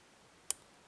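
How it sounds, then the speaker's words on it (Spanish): A single sharp, faint click as a lock pin sets while a lock is picked with a 0.5 mm Multipick pick set, alone against a quiet background. "otro clic y parece que queda bien colocado"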